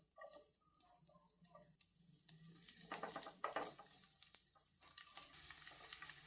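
Garlic dropped into hot oil in a kawali sizzles steadily up close, the frying hiss building and holding with faint stirring ticks, no voices.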